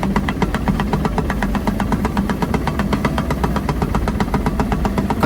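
Heavy excavator engine running on a rice field embankment at a paddy and irrigation construction site, a loud, steady diesel chug with fast even pulses, close and continuous without talk.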